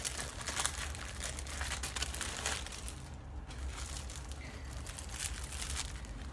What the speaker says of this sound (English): little plastic bag.